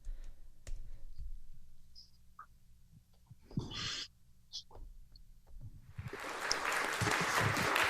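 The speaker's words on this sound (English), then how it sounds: "I'm going to give you applause and then we'll get going." Applause from an improv instructor, brief claps and clicks over a quiet room that swell into a burst of clapping near the end.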